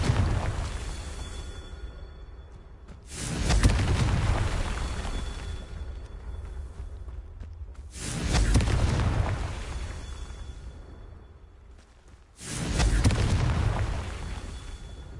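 Confringo blasting spells explode in Hogwarts Legacy, three heavy booms spaced a few seconds apart, each a loud low rumbling burst that fades into a hissing tail.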